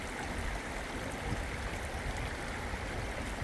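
Water of a small cave stream in New Zealand rushes and gurgles continuously as a person wades across, a steady close wash of flowing water with no voices.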